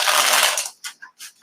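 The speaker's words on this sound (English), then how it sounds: "I'm going to shuffle the deck and see what people might need to know who watch this video." A stiff new tarot card deck being shuffled, a loud riffling burst followed by three short separate card slaps and flicks, close up with no talking.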